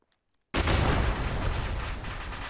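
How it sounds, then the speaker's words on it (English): Vehicle ammunition cooks off in Arma 3 with the ACE 3 combat mod: after half a second of silence, a sudden loud blast erupts into a sustained, dense roar of crackling detonations. "So that noise what you hear right now is the ammunition going off in the vehicle."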